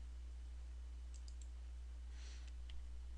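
Computer mouse clicks in Autodesk Civil 3D: a few sparse, light, close taps over a steady low electrical hum.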